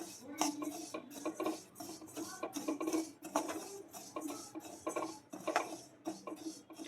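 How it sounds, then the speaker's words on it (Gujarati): Cumin seeds stirred with a spoon while dry-roasting in a heavy-bottomed kadai, giving repeated scraping and metallic clinks against the pan in an uneven rhythm, close and fairly quiet, with no talking. "હવે આપણે જીરું શેકી લઈશું"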